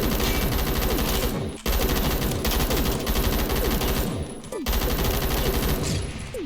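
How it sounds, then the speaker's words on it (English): A G36 rifle fires in a video game: sustained, loud automatic bursts that run almost continuously, broken by two brief pauses. "It's so funny how the gun is still stupid accurate, but it goes crazy when you actually shoot it."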